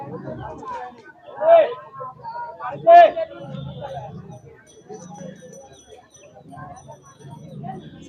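Pigeons coo softly at the large pigeon market in Khalishpur, Khulna, under nearby voices and crowd murmur, with a couple of louder calls standing out.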